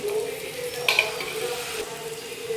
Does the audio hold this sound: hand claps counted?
no